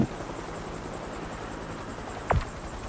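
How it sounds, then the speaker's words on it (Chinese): Police helicopter in the racing video game NFS Assemble, a steady rotor drone holding throughout, with a brief sharp thud near the end. "登上直升机，请继续完成行动。"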